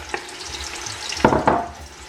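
Chopped onions dropped into warm vegetable oil for a stew base, giving a soft sizzle under a couple of sharp stirring scrapes near the end, close and fairly quiet.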